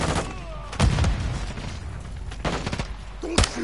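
Gunfire in the video game Call of Duty: a few sharp, loud shot bursts near the start, around the middle and toward the end, set over a steady, busy game-noise background with no clear talk.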